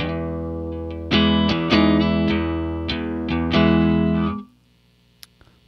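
An electric guitar through the compressor effect of a Boss GX-700 effects processor plays a rhythmic run of sustained, evenly leveled chords with a thick, squeezed tone, then rings out and stops, leaving quiet.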